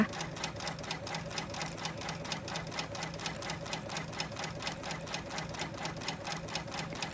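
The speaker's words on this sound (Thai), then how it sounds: "ก็จะเห็นว่าตัวจักรก็ยังสามารถทำงานได้อย่างปกตินะคะ" An embroidery machine stitching raised lettering over two stacked layers of 3D foam on a cap: a fast, steady mechanical chatter of needle strokes that continues evenly throughout, with no talking.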